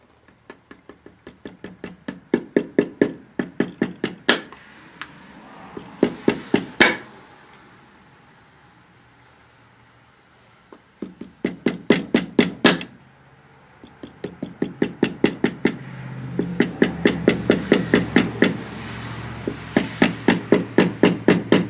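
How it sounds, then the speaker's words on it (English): Rapid metallic hammer taps on a part of an Intek V-twin engine sound in several bursts, each a quick run of sharp knocks, separated by short pauses. "or you can just use a hammer"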